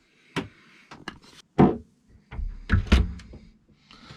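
The aft cabin door of an Etap 28i, a 28-foot sailing yacht, opens with a close run of latch clicks, wooden knocks and thumps spread over a few seconds.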